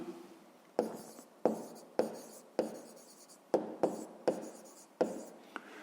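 A pen scratches across paper in a string of short, sharp strokes, about ten quick scribbles with brief pauses between them, close and quiet with no voices.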